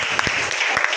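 A church congregation clapping together during a Hindi worship service, a dense, steady burst of many hands for about a second, with a voice faintly underneath.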